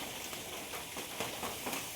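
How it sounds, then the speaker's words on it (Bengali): Heavy rain that has fallen outside since before dawn makes a dense, even hiss that runs without a break and has no speech over it. "দেখো বাইরে কি বৃষ্টি, সারা রাত 3টের আগে থেকে বৃষ্টি শুরু হয়েছে, এখনও বৃষ্টি চলছে"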